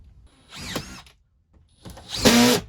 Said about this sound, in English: And then you can screw it into place.